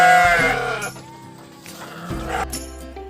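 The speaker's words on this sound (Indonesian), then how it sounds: "Ternyata itu adalah suara kambing hutan." Wild goats bleat in a couple of wavering cries, one loud and close at the start and a second, fainter one later.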